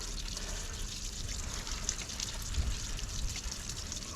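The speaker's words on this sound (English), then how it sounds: "So basically just get it on chain. We're going to be washing a lot of contaminants away." A thin spout of water sprays steadily onto a motorcycle chain, a continuous close hiss and splatter with no voices.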